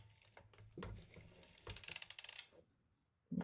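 A circular sock machine knits a heel in Kevlar yarn. Quiet, sharp mechanical clicks and ratcheting come in short bursts, with a dense run of rapid clacks in the middle and near-silence between.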